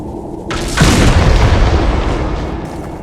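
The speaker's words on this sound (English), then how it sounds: "That'll definitely explode." A Qunari gaatlok barrel blows up in Dragon Age Inquisition with a sudden loud boom that then rolls on as a sustained, rumbling roar for several seconds, with no voices.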